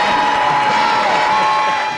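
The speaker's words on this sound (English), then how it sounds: "Let's have a nice round of applause for Dr." Crowd cheers and applauds outdoors in front of the Ohio Theatre in Dayton at a charity radio event, a steady dense roar of claps and whoops filling the whole stretch at close range.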